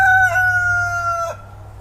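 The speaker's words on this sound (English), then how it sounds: "apparently having dueling roosters crowing" Rooster crows loudly nearby, one long drawn-out call that breaks into a second phrase before fading into low farmyard background.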